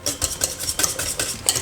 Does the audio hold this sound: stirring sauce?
yes